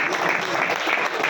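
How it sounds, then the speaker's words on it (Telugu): Dense, steady applause from an audience at a success-story gathering honouring the owner of ADMS, a crowd of many hands clapping at once that fills the short moment without a break. "ఒకసారి గట్టిగా క్లాప్స్ ఇస్తాం సార్"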